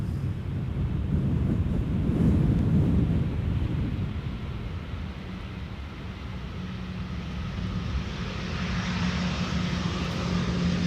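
A Lufthansa Airbus A319 airliner lands at Amsterdam Schiphol in crosswind conditions, heard as a steady broadband jet roar with wind buffeting the microphone, swelling early and holding loud throughout.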